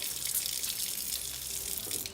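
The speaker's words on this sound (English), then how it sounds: "We can turn off the water at this point." Water running steadily from a bathroom tap while hands are washed with soap, a close, even hiss of flow with no talk.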